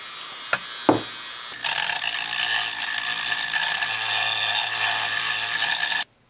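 A tool works on the passages of a 1979 Triumph Spitfire 1500 cast iron cylinder head, starting with two sharp knocks before a steady, close, harsh grinding rasp runs continuously for several seconds and then cuts off abruptly.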